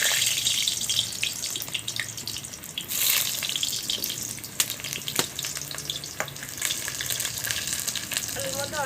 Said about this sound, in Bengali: এবার আমি একটু সর্ষের তেল দিয়ে নেবো, আলুটা ভেজে নেবো।